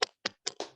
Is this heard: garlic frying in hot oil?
no